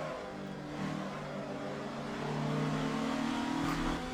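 A Nissan GT-R engine in the Assetto Corsa racing game revs steadily and climbs in pitch as it accelerates, a smooth continuous mechanical drone heard alone and fairly close.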